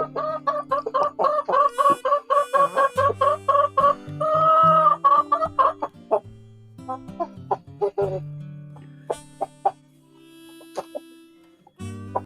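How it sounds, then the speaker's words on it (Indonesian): Kampung chickens cluck in rapid, repeated bursts close by, with a drawn-out call midway and scattered clucks trailing off, over faint background music. "Ada ayam kampung KUB seperti ini"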